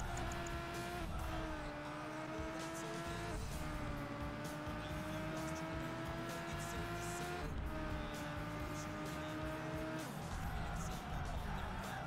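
Engine tones in a racing game rise and fall through a long slide around a corner, with steady tire and motor noise continuing at a constant level.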